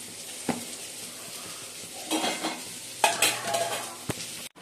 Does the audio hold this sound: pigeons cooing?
no